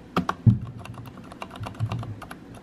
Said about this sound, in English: yeah, the keys sound very soft